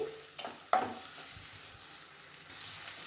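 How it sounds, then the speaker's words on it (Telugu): Onions and curry leaves fry in oil in a pan over medium flame, giving a faint, steady sizzle. A few soft stirring clicks sound near the start, and no one speaks. "వేసుకొని కొంతసేపు వేపుకుందాము. కొంతసేపు అట్లా వేగనిద్దాము."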